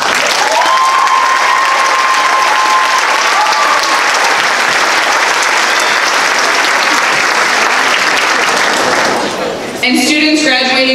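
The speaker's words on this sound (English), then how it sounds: "please stand to be recognized with a round of applause" Applause for students graduating with high honors at a 2019 high school commencement ceremony, loud sustained clapping from a large crowd filling the whole stretch before cutting off near the end.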